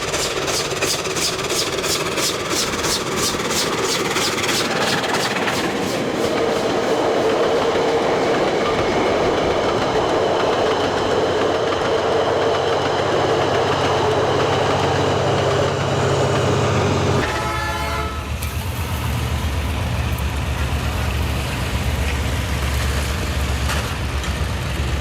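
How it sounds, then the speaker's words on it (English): A Peppercorn class steam locomotive, 61063 Tornado, hauls a train through thick fog, a loud close rumble with rapid rhythmic wheel clatter and rail noise that shifts to a deeper steady roar as the carriages pass. "Peppercorn 61063 tornado makes its Scarborough Spa Express debut, powering through thick fog along the route."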